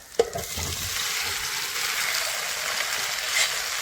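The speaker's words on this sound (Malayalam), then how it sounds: "ഒരു സ്പൂൺ ബട്ടർ നമ്മൾ ഇട്ട് കൊടുത്തു അതൊന്ന് ആയി കഴിഞ്ഞപ്പോൾ നമ്മൾ കപ്പ ഇട്ട് കൊടുക്കുക" Tapioca fries in melted butter in a pan, giving a soft, even hiss that runs throughout after a brief knock at the start; no voices are heard.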